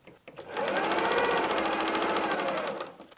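A sewing machine stitches fabric triangles onto a strip for pinwheel patchwork, a steady close whirring run of rapid needle strokes lasting a few seconds before stopping.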